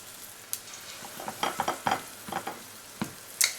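Congolese mikate, plain fried dough balls, drop into moderately hot oil, producing a soft background sizzle with a series of irregular splashy bursts and crackles as the dough hits and bubbles.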